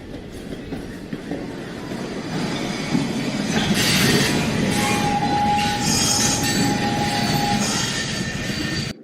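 A train running steadily, with rumbling wheels, rattling carriages and a long high wheel squeal partway through, continuous and fairly loud.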